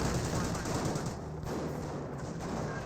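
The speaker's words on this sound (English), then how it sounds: "Strafing run on his way" An aircraft strafing run in Company of Heroes brings dense, continuous rattling gunfire with heavy low rumble, loud and sustained across the whole stretch, with indistinct game sounds mixed in.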